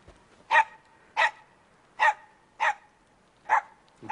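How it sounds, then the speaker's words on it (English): A single dog barks six times in sharp, evenly spaced bursts, close and clear against a quiet background. "What a dog."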